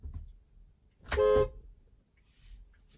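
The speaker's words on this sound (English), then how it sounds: "And the horn honked." A Tesla Model 3 horn honks once in a steady blast of about a third of a second, close and loud, with faint mechanical handling sounds before and after during steering wheel replacement.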